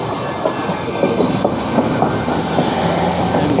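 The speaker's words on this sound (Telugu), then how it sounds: "ఇది కూడా అండి ట్రైన్." A working train rolls along tracks in Faro, Portugal, its steady rumble and wheel clatter filling the scene close by and loud, continuous throughout with no voices.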